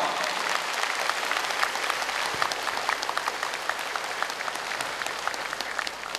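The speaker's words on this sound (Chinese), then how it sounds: "我们现在以热烈的掌声欢迎慧立长老莅临新加坡佛法讲座。" A large audience at a Buddhist Dharma lecture gathering in Singapore bursts into sustained, dense applause to welcome a visiting elder monk, steady and full throughout with no talk over it.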